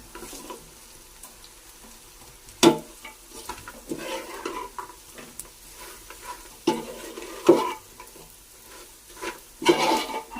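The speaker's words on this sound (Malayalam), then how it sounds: "നമ്മളിതിലേക്ക് നമ്മൾ പൊരിച്ചു വെച്ച ബീഫ് ഇട്ട് ഇളക്കാം." Fried beef stirred into pickle masala in a pan for beef pickle, with a steady sizzle throughout and intermittent loud scraping strokes of a spoon against the pan.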